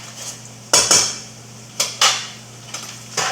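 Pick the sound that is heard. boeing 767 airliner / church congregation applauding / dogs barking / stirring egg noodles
stirring egg noodles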